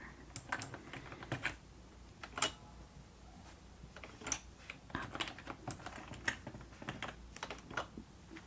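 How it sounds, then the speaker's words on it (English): Fingers type on a computer keyboard at a library customer service desk, irregular bursts of soft, close key clicks with brief pauses between them, no talking. "Let me go ahead and type in the number."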